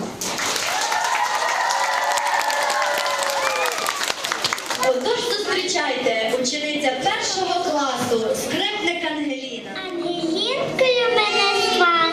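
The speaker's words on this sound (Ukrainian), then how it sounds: "давайте підбадьоримо їх гучними оплесками" Audience at a school mini-miss pageant applauding contestants, loud sustained clapping under music, with children's voices and shouts emerging as the applause continues.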